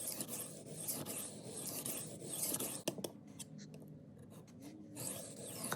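A warped estate-sale butcher knife is stroked on a 300 grit Ultrasharp diamond sharpening stone, giving a quiet, continuous rasping scrape that pauses briefly in the middle and then resumes.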